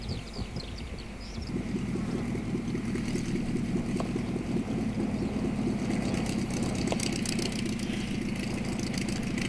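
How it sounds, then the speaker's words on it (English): Homebuilt light aircraft engine idling, then rising to a steady, loud, near drone as it taxis back to the hangar, with faint clicks and rattles over it. "The taxi back to the hangar takes almost as long as the flight itself."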